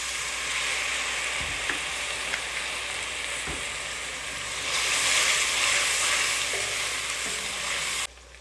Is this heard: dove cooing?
no